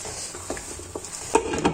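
Soft scraping and light knocks of a spoon stirring sarson ka saag with fresh coriander in a pot, with a faint sizzle underneath and a few sharper clinks near the end.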